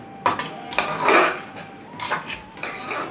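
Dal ingredients and sugar are sautéed in a pan, with a metal spoon clinking and scraping against it in uneven, close knocks over a steady low sizzle.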